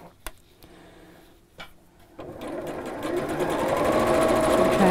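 A sewing machine stitches piping onto a cushion cover, starting with a few isolated clicks and short bursts, then running steadily and growing louder, close by.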